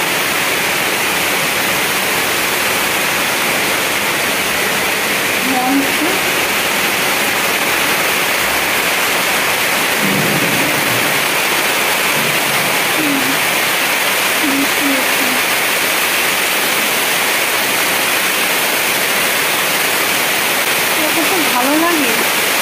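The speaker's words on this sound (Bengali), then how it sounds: "প্রচুর ঝড়ো হাওয়া হচ্ছে।" Rain with strong stormy wind makes a loud, unbroken broadband roar that stays level throughout, like rushing water close to the microphone.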